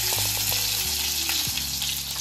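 Chopped garlic sautés in hot oil in a kadai, giving a loud, steady, close sizzle with a few light scrapes of stirring throughout.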